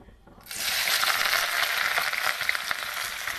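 Onion, green chili and garlic dropped into hot oil burst into a loud sizzle after a brief quiet start, then crackle steadily at close range, no speech over it.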